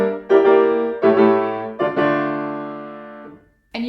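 Big, loud piano chords from Heller's Warrior's Song Op. 45 are played in three or four heavy strikes, the last one ringing out longer before another chord begins at the end.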